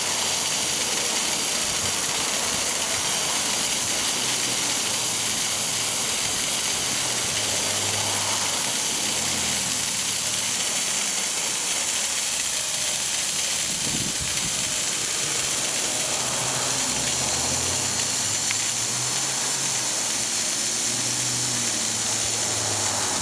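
Compressed air forced through an in-ground lawn sprinkler zone during a winter blowout, a steady loud hiss and rush with gurgling, sputtering water running throughout with no talk.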